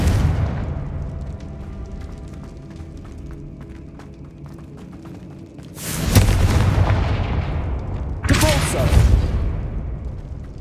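Confringo fire spells blasting in Hogwarts Legacy on PS5: two loud, booming bursts in close succession follow a stretch of quieter game ambience.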